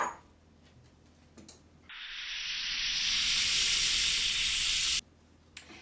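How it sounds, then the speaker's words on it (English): A loud, steady sizzle of morel mushrooms frying in butter in a hot pan begins abruptly, swells, then cuts off, with faint kitchen clatter around it. "A little sizzle sound in there, that's good."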